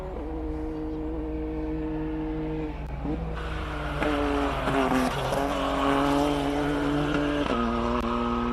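An MSA4 race car at the Simola hill climb accelerates hard, its engine climbing through the revs with several sharp gear changes. The engine is loud and steady under a constant broadcast backdrop.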